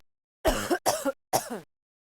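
Three short coughs from a cartoon character in a public health animation on cough etiquette, each a clear, separate burst followed by silence.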